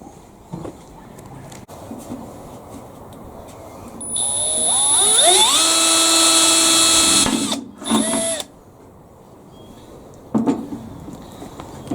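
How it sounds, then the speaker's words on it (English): A cordless drill drives screws during a solar setup build, with one loud, close burst of rising and falling motor whine lasting about three seconds, followed by a brief second spin, amid quiet background noise. "I really wish that somehow this drill could have about 6 volts more power"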